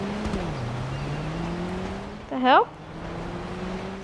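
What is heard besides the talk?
loud car driving past, from the video game GTA 5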